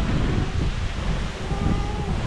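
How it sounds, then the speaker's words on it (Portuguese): Strong wind buffets the microphone continuously with a dense roaring rumble, loud and steady throughout with slight surges. "Que ventania!"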